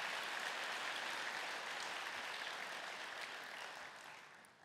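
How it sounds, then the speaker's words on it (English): A church congregation gives a big hand during a Sunday morning sermon, a dense, faint wash of clapping that runs steadily and then fades toward the end. "Let's give the Lord a big hand of applause."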